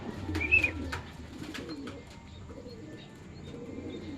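Homing pigeons return to a loft after a club training release in San Rafael, Bulacan, with clear cooing and a few chirps over soft background rustle and ambient noise.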